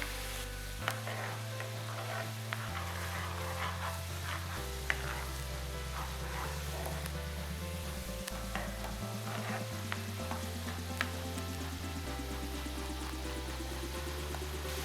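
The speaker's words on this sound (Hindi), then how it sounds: "एक मिनट के लिए हम इसको फ्राई करेंगे।" Food fries in a pan with a continuous crackling sizzle under prominent background music, steady throughout with no talking.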